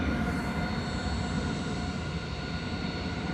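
An airliner taking off from Manchester Airport after arriving from Marrakesh, its engines giving a loud sustained roar with a rumbling low end and a bright whine above, steady across the moment.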